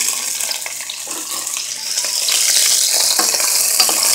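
Beef and broccoli with cauliflower is stirred in a hot pan, giving a loud, steady sizzle with scraping and stirring noises and no talk.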